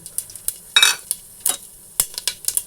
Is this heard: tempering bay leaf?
yes